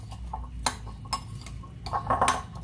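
Salt being stirred into a mango salad in a bowl, heard as irregular clinks and taps of a utensil against the bowl, a few sharp knocks and then a busier cluster of scraping clatter near the end.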